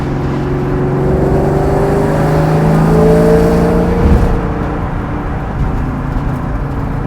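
A Coyote-powered Foxbody Mustang, a widebody pro-touring build, revs loudly as it accelerates, its engine tone climbing steadily inside the car before it drops off and settles into a lower drone.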